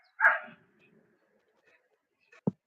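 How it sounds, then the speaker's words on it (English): A neighbor's dog lets out a single short bark, then a faint thump after a pause, heard at close range in a quiet room. "So That is my neighbor's dog."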